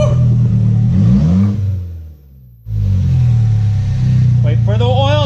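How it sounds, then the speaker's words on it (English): Car engine running with no exhaust fitted, straight-piped, roaring loudly with rising and falling revs, cutting out briefly before firing back up to a harsh, steady rumble; faint voices underneath. "So now we're gonna start it up without the exhaust on there"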